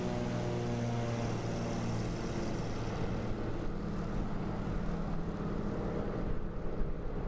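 An airplane engine in Microsoft Flight Simulator drones steadily through a takeoff roll in an eSTOL competition, a dense propeller roar with a tonal hum that shifts and fades partway through, unbroken by voices.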